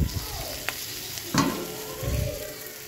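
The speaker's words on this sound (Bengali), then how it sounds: "সব মশলাগুলো দিয়ে ভালো করে কষিয়ে নেব" Spices sizzling in hot oil with a few sharp stirring scrapes and clatters, fairly quiet and close, no voices.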